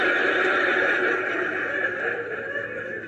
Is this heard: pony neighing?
yes